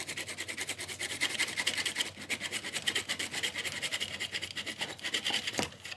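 A hand saw cuts down the middle of a piece clamped in a vise for a DIY squiddy, with quick, even rasping strokes repeating close up for the whole stretch.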